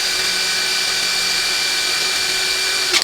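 An APR AP127+ impact wrench runs steadily in loosening mode at constant high speed, giving a continuous whine with a bright tonal hum that holds for about three seconds before a brief bump at the end.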